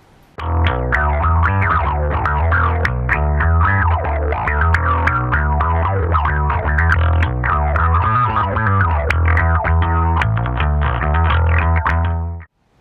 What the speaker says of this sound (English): First one I'm going to do is going to be an envelope filter.